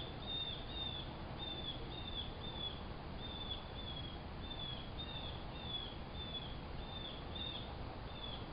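A bird calls outdoors near big trees, giving faint, high chirps repeated steadily at short intervals over a constant hiss of background noise, with no talking.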